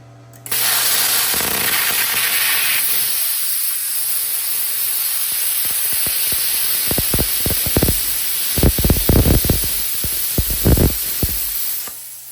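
An ArcCaptain Cut55Pro plasma cutter, turned up to high amperage, cuts thick metal: a loud, steady air hiss starts abruptly, then crackling, spitting bursts grow denser toward the end.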